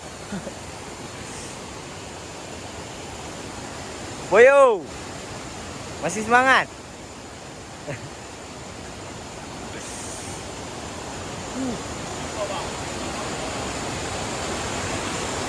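The Putsago river on Mount Peut Sago rushes in a steady, full wash of flowing water, with a couple of brief voices calling out over it.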